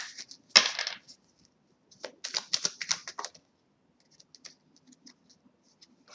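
Tarot cards being drawn and handled during a reading, with a sharp card snap followed by a run of quick shuffling and flicking clicks, then light scattered taps.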